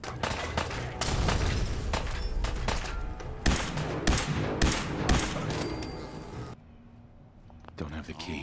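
Gunfire in the video game Fallout 4, a loud burst of repeated shots and impacts over game music and effects, dropping to near quiet before a few more hits at the end.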